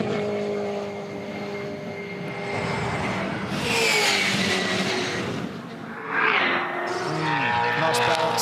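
Supercars race fast through a corner during a 2019 OTR SuperSprint practice session, engines screaming loudly as cars pass in succession, with a higher whine sweeping past near the end and a commentator talking throughout.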